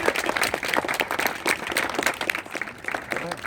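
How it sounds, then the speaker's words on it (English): Applause from an audience honoring students, a steady patter of many hands clapping at moderate distance, continuous and fairly even for a few seconds. "if we could just give them a round of applause"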